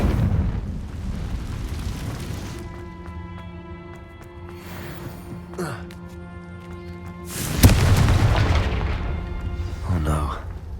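A Confringo blasting spell bursts in Hogwarts Legacy, a loud, broad explosive boom with a sharp onset near the end, rising over a steady musical drone and game effects, with a voice speaking across it.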